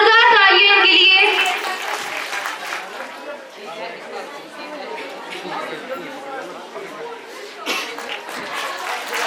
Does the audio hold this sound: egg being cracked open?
no